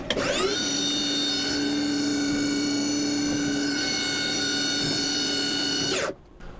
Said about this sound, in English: And now, let's chamfer it.